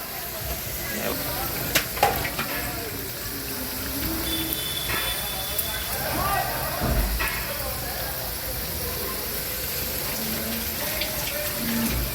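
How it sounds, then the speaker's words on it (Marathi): Sabudana vadas frying in oil over a low flame give a steady, soft sizzling hiss that runs unbroken for twelve seconds, with a voice talking over it. "याला मंद आचार आपण फ्राय करून घेऊ हे फ्राय होत आहेत बघा"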